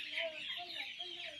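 Chicks and chickens on a poultry farm give faint, high, continuous peeping and clucking, a soft mass of overlapping calls in the background.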